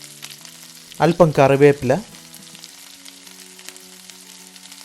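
Sliced shallots and green chillies fry in hot oil with a steady, quiet sizzle that runs throughout, while someone speaks briefly over it.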